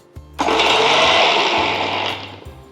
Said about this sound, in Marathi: आता हे मिक्सरमध्ये छान बारीक याची पेस्ट तयार करून घेऊया.